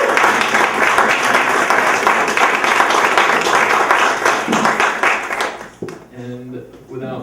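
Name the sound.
audience applause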